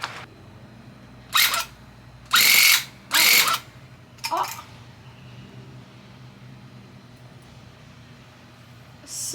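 An electric tufting gun punches through stretched fabric in four loud, buzzing bursts of roughly a second each, with a fifth starting at the very end, separated by quiet pauses and no talk.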